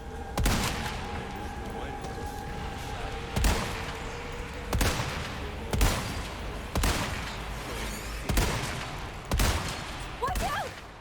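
Rifle shots in Resident Evil 4 crack out one at a time at a slow, uneven pace, about eight loud, sharp reports over a low rumbling game backdrop, with a faint pitched tone near the end.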